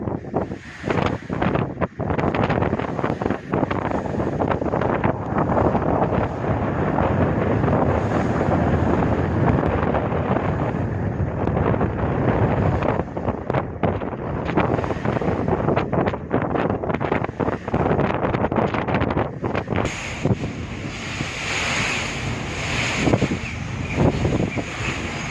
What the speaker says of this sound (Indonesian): Ombaknya kencang campur angin teman-teman.